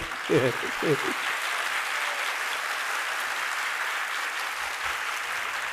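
An audience claps steadily through a Hindi sermon, a continuous even wash of applause under a few brief spoken words at the start.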